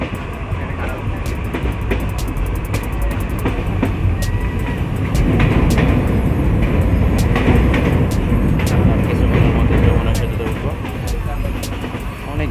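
Train rolling slowly across the Jamuna rail bridge in Bangladesh, a steady broadband rumble with dense rhythmic clatter that swells louder midway, heard from inside the carriage under a constant roar.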